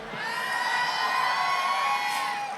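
A concert crowd at the Yerevan Wine Days outdoor festival cheers and shouts, with a few whoops rising over steady audience noise. It stays loud and continuous, with no talk on top.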